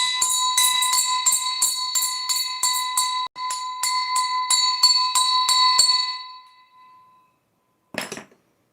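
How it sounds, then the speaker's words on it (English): A small handheld bell rung in a quick, steady run of bright metallic dings that ring on and fade out, followed by one short clink near the end. "Ding this bell when them idiots get on here"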